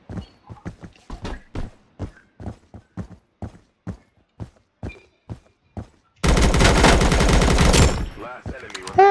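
Sustained automatic rifle fire erupts in the video game Blackhawk Rescue Mission 5, a loud dense burst lasting about two seconds. It follows a long stretch of quick, evenly spaced footsteps.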